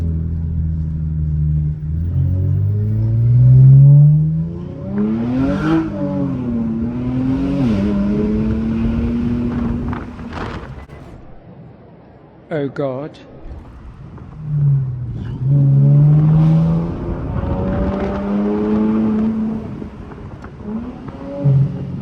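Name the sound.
Infiniti Q50 revving loudly with muffler delete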